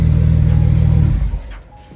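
A 1000HP+ Porsche 992, the UK's most powerful, rumbles close by with a loud, pulsing low engine note that revs and then drops away within a second or two, leaving a quieter tail.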